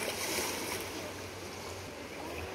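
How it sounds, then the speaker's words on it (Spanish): A river flows as a faint, steady watery rush with a low rumble, distant and quiet for a few seconds, and no one speaks. "Un río."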